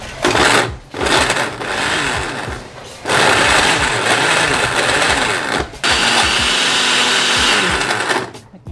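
An electric machine grating sweet potato on its high setting whines and grinds loudly up close in three long bursts separated by brief stops, with no talking over it.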